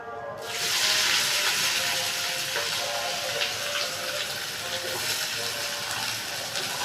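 Chopped onion sizzles with salt in hot oil in a pan, alongside chilli, cumin and bay leaf, giving a steady close hiss with faint crackle throughout.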